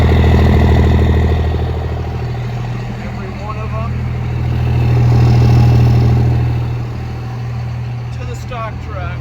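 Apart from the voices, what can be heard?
truck exhaust with engine idling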